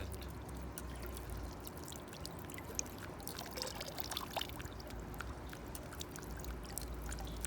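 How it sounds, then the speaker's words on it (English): Water pouring and dumping from slowly leaking barrels in a kinetic art piece, a steady continuous splashing trickle with scattered drips, moderately faint and unbroken throughout. "they also have valves which dump the water when they land."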